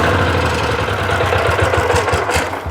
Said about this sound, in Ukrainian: Для того, щоб мотоблочок заглушити